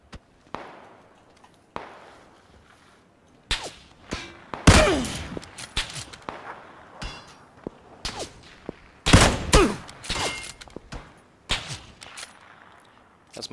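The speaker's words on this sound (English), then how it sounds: "That's my sweet covering fire for you" Gunfire in the battle royale game PlayerUnknown's Battlegrounds, scattered single shots and sharp volleys with a few loud close bursts among quieter distant cracks, irregular and spread over the stretch.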